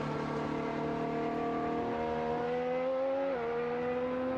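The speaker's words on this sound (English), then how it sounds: "Lance Stroll, as you can see, back out there." A Formula 1 car runs on track during Bahrain pre-season testing, its engine a steady, loud, high drone that shifts pitch stepwise as gears change, heard alone without talk.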